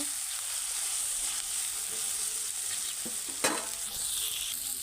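Prawn curry with tomato cooking in a pan, giving a steady soft sizzle with an occasional scrape of a stirring spoon, fairly quiet and without talking.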